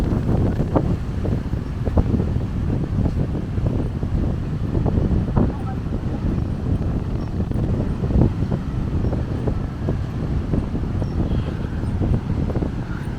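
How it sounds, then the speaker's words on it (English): Strong gusting wind at Seminyak Beach in Bali buffets the microphone with a heavy, continuous low rumble, broad and loud, with waves likely beneath it. "It's very windy, very strong wind."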